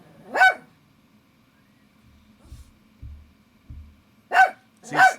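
A dog barks once, then twice more in quick succession a few seconds later, with faint thumps and quiet background between.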